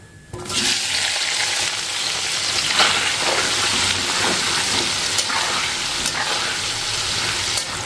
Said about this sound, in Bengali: এবার এই তেলেই একটুখানি জিরে ফোড়ন দিয়ে পেঁয়াজগুলো দিয়ে দেবো